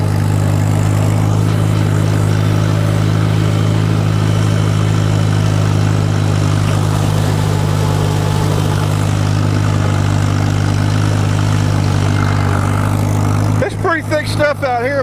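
A tractor fitted with a 5-foot bush hog mower idles nearby, a steady low throbbing rumble that runs unchanged throughout, with someone talking over it and a brief burst of other sound near the end.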